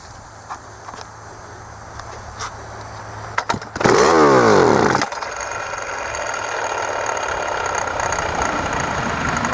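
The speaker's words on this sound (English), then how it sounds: "So I'm just going to give it a few pulls" A 45-year-old Homelite 350 chainsaw coughs to life after a few pull-start tugs, roaring loudly for about a second before dropping back to a lower, steady running drone.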